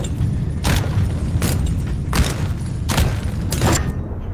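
Gunfire in a VR rollercoaster game, heavy booming shots in four or five spaced bursts over a constant loud rumble of the ride.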